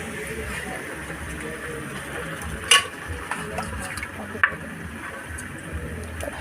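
Chicken fries with spice masala in a pan, giving a soft, low sizzle broken by a few sharp clinks of a utensil against the pan.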